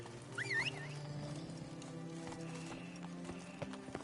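Horse hooves clip-clop steadily through a scene in The Witcher 3, with a short rising whinny near the start over a low background drone of game music and ambience.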